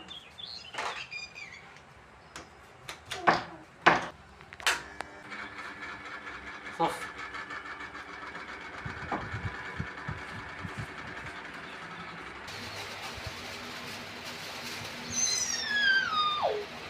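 The fan motor of an air cooler, repaired after high voltage burned it out, runs with a faint steady hum and a few clicks and knocks, and the whine rises toward the end.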